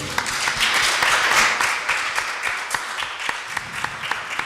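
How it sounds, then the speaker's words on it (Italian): A congregation at a church worship service applauds together, a dense, steady wash of clapping that stays moderately loud for a few seconds and then thins into scattered claps. "Facciamo un applauso al Signore."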